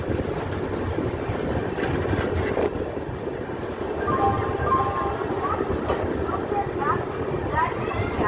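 Howrah–Hatiya Kriya Yoga overnight express running on the Howrah–Mumbai main line in Jharkhand, heard from inside as a steady low rumble and rattle of wheels on rails, with a voice talking over it.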